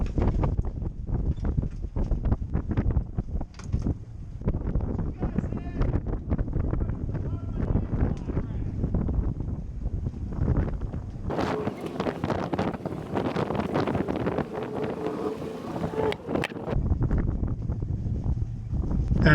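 Strong wind buffets the microphone in a steady, loud roar while a boat docks, with a rougher gust rising partway through.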